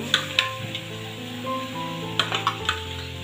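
Onion and garlic fry in a hot pan with a soft hiss under a low hum, while sharp clinks from a spoon or lid tap out a few times.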